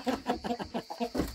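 Chickens clucking close by inside a coop in Muğla, a quick series of short, rhythmic clucks with no talking.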